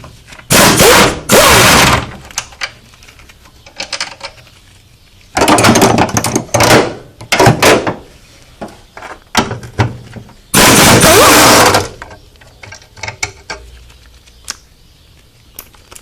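Three loud bursts of an impact or air tool spinning off 13 mm strut mount nuts from their studs, each lasting about a second, separated by quieter clatter and handling noise.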